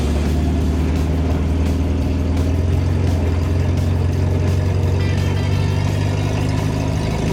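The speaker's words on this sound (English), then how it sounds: "she's popping around a little bit on me" A 1958 Willys DJ jeep engine runs steadily while driving, a loud, continuous low rumble with a slightly uneven, popping character throughout, heard close from inside the cab.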